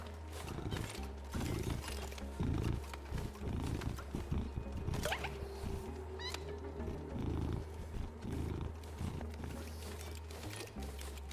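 Close, low rumbling purr from a cat, steady and continuous, with soft rustling and shuffling noises over it.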